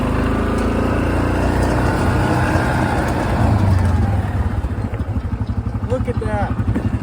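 A four-wheeler ATV engine idles and revs out in a field, a steady motor drone that rises midway then settles into a pulsing idle, with someone talking over it.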